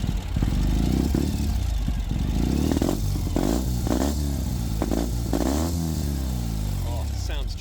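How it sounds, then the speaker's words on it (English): A 2019 Ural Gear Up Sahara motorcycle, warmed up, gets a few short blips of throttle, its engine rising and falling loudly and close before settling back toward a steady idle. "And now I'm just going to give it a couple small revs as the bike is relatively up to temp."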